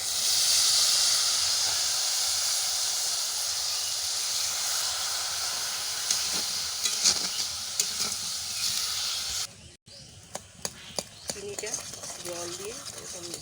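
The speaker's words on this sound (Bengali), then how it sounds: "চিনিটা ভাজা হয়ে গেছে আমরা এবার পরিমাণ মতন রসা করার জন্য জল দিয়ে দেবো" Fried sugar in a pan hisses and sizzles loudly as water is poured in for syrup, a steady broad hiss that fades slightly, then cuts off and gives way to quieter stirring clatter and scattered pops.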